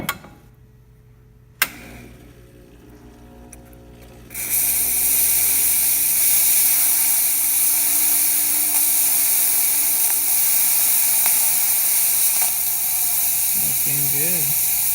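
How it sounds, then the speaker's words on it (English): A Quick Mill Silvano espresso machine's steam wand opens after a brief quiet moment and hisses loudly and steadily for about ten seconds, with a faint bubbling gurgle near the end as the steam plays through liquid. "let's do some steam"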